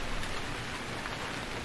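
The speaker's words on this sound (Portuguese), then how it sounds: "É a primeira vez que tá chovendo aqui depois da atualização." Rain falls steadily in the survival game Stranded Deep, a dense even hiss of drops on surfaces filling the whole moment with no voices.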